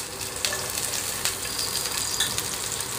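Onions sizzle steadily in hot oil with mustard seeds in a pan, a close, continuous frying hiss with small crackles and pops throughout and no talking.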